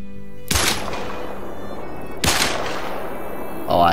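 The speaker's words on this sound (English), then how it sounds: "Let's shoot it." Two sharp gunshots from a 10mm handgun ring out in the hunting video game Hunter Call of the Wild, each a loud crack followed by a decaying echo.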